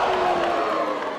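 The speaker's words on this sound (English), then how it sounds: "You hear the oohs and the ahs." Wrestling crowd at a live independent show in Maine letting out a sustained swell of oohs and ahhs, loud and dense, filling the moment without any separate speaking voice.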